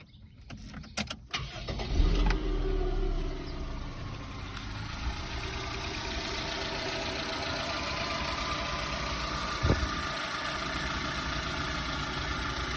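A 1994 Toyota Starlet cranks and catches with a brief burst near the start, then settles into a steady, even idle close by, with one short knock partway through and no talking.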